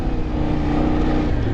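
A Kove 800 Rally motorcycle engine labors steadily through deep sand, a continuous close, loud drone with a steady low hum that holds through a shift up into third gear.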